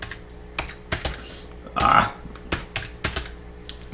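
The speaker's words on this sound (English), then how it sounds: "Typing in the wrong window, that's why." Keys clack on a computer keyboard in irregular bursts, with one louder clatter midway, close and fairly crisp.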